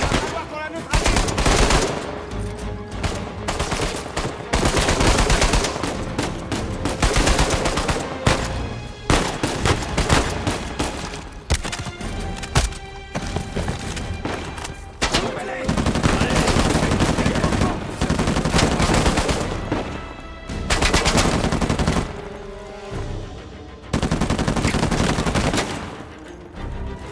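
Sustained turret gunfire from Uncharted 4 gameplay hammers in loud, rapid automatic bursts with brief gaps, close and intense throughout, with shouted voices occasionally breaking through the shooting.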